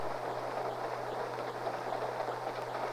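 A ski train bound for Winter Park crossing the Continental Divide toward the Moffat Tunnel, heard as a continuous low rolling rumble of wheels and carriages at an even, moderate level with no voices.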